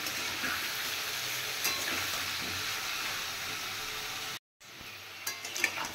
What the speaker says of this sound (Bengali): আজ আমি একবারে ভেজে নেব